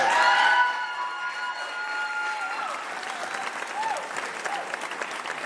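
Applause from an audience at a city council Black History Month celebration, steady broadband clapping for several seconds after an awardee is introduced, with faint voices and cheers mixed in.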